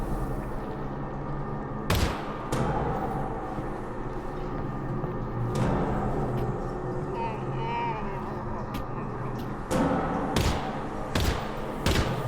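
Gunshots in the VR game Half-Life: Alyx, several sharp reports spread across a low rumbling background, some in quick pairs, fairly loud and close.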